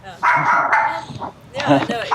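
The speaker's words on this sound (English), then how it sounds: "Sorry, my dog's barking." A pet dog indoors barks in a few sharp, close yips and woofs, loud and near, in short bursts separated by brief pauses.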